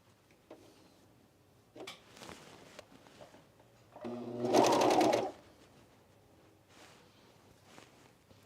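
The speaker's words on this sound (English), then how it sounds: "we're gonna overlock this on" Overlock sewing machine stitching fold-over elastic onto a knit camisole, a short burst of rapid whirring for about a second amid quiet handling noises and soft fabric rustles.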